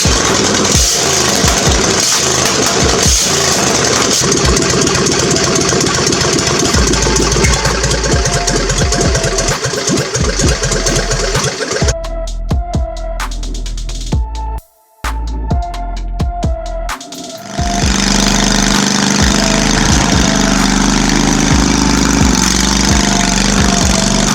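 A small engine fitted with a new double barrel carburetor runs loud and close, idling with a rough, uneven chug, briefly cutting out and sputtering before picking back up.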